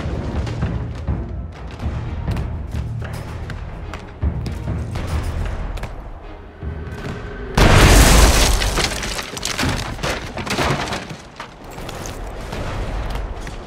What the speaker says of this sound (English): That cannon. Perhaps I can make use of it.